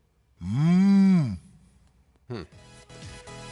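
A human voice imitates a moose call with a long, low moo like a cow or bull, a single drawn-out groan lasting about a second, followed by quieter talk.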